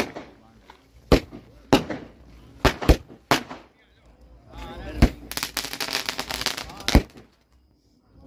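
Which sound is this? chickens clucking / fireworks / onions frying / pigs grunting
fireworks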